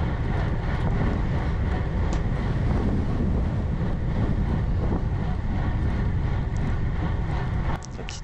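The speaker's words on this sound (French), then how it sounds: "il y a déjà pas mal de vent et commence à souffler vraiment fort" Strong south wind roaring steadily across the microphone for the whole stretch, a loud broadband rush heard while cycling in an exposed section of a 192 km sportive road race.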